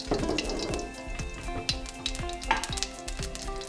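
Carrom seeds drop into about five tablespoons of hot oil, crackling and sizzling up close with a quick run of sharp pops and spits under a steady frying hiss.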